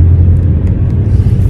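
Inside a moving car, the engine and tyres make a loud, steady low rumble that fills the cabin without a break.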